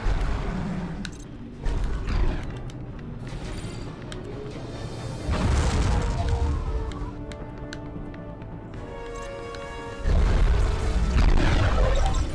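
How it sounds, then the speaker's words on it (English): Heavy weapon fire from a ship in the video game Advent Rising comes as repeated booming crashes and rumbling blasts, with louder bursts arriving in waves over a dense game soundtrack. "Just fire all barrels."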